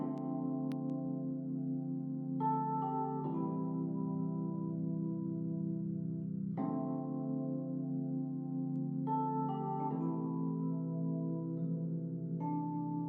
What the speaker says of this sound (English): So I used these electric pianos.